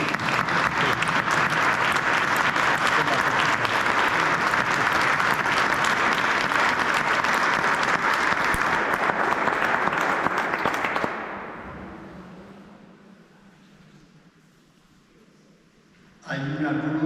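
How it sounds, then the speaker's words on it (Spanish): A church congregation applauds newly commissioned lay ministers during a ceremony, loud sustained clapping for about eleven seconds that then fades away, followed by a brief return of room noise. "os queremos dar este fuerte aplauso"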